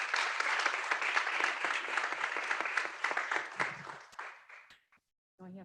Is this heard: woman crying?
no